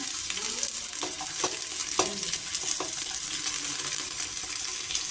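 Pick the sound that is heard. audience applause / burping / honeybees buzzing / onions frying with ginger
onions frying with ginger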